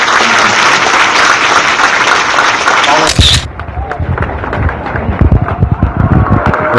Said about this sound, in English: The filmmakers of the Short Film Festival are standing for a very deserved applause.